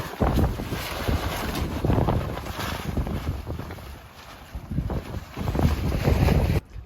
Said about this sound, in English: the wind is getting a bit hectic up here